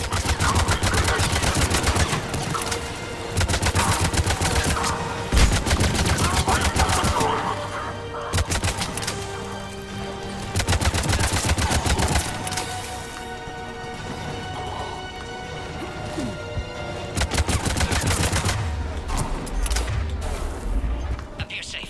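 Heavy gunfire erupts in bursts during an attack in the video game Mass Effect 3, with loud rapid volleys and booms rising and falling across the scene.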